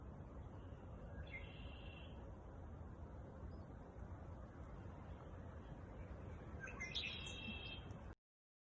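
A woodpecker calls from a tree along a hilly wooded trail, with two short bursts of faint, high chirps, one early and one near the end, over a steady, breezy outdoor background.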